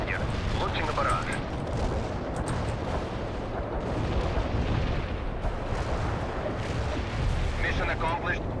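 Artillery barrage and a fuel air bomb detonation in the World in Conflict game, a continuous heavy rumble of blasts rolling together, loud and dense, with scattered sharper cracks layered over the roar.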